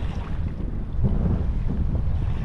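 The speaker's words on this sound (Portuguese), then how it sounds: "Aqui ventania, meus amigos." Strong wind buffets the microphone in a loud, continuous low roar, with faint water sounds beneath, while fishing for peacock bass.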